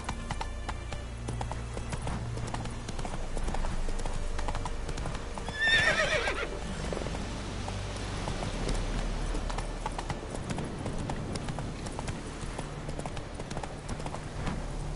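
Roach the horse in The Witcher 3 gallops with a continuous rhythmic patter of hooves. Partway through comes a loud whinny, and the hoofbeats keep going steadily underneath ambient game sound.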